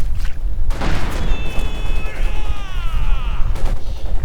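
Mortar fire in Company of Heroes 2 bursts amid battle noise, with booming impacts near the start and end, a whistling descending tone in between, and dense combat rumble throughout.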